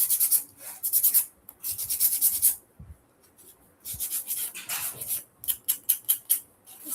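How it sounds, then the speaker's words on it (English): Edges of a craft piece being roughened, repeated dry rubbing and rasping strokes in uneven bursts, close and moderately loud, with no talking. "I am going to just kind of roughen up the edges here."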